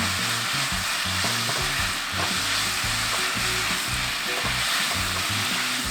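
Glass noodles stir-fried in a pan, making a loud steady sizzle with irregular stirring clatters throughout and no talk.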